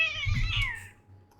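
A house cat gives one drawn-out, rising and falling meow close by at low volume, with a quiet room hum underneath and no talking.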